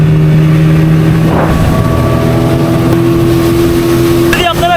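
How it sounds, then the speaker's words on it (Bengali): A speedboat at an amusement park in Narsingdi holds a loud, close engine drone that shifts in pitch as it gets under way, under people talking nearby. "দেখেন আবার স্পিড বোট ছেড়ে দিবে"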